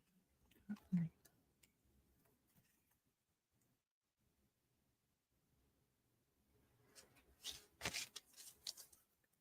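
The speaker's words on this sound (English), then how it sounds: "Shuffling cards." Quiet rustling and a brief riffle of cards early on, then a louder, sustained flurry of card shuffling near the end, close and crisp.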